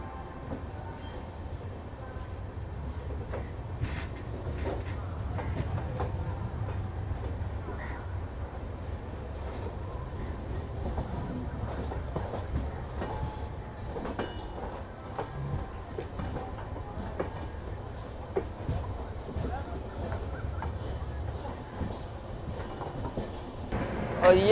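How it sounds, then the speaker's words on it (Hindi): Inside the moving Amrit Bharat Express, departing Kanpur alongside the Sangam Express, a steady low rail rumble runs throughout with scattered clicks and clatter, and a thin, constant high tone sits above it. "और बगल में भाई पैरेलल डिपार्चर हो रहा है भाई कानपुर से संगम एक्सप्रेस और हमारी अमृत भारत एक्सप्रेस का।"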